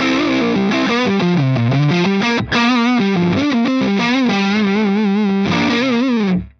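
Electric guitar played through a Timmy Drive overdrive block on a Fractal AX8, giving a thick, fuzzy tone as a loud, sustained melodic line with bends runs for several seconds alone, then rings out.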